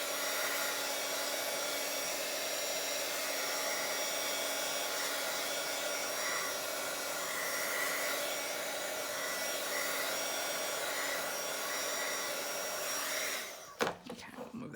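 A heat tool blows hot air over craft journal pages, a loud steady whirring hum held close and constant, then switched off near the end with a clunk of handling, no speech.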